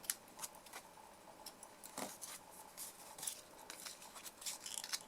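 Scissors snipping the ends of ribbon in a quiet room, a few faint, crisp cuts spaced irregularly with soft handling rustles between them.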